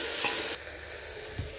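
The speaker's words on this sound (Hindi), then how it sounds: "अब इसमें मैं टमाटर ऐड करूंगी। और इसको थोड़ी देर के लिए भूनने दूंगी।" Tomatoes and peas frying in a pan for a vegetable biryani give a steady close sizzle, with a louder burst of stirring near the start and another brief scrape toward the end.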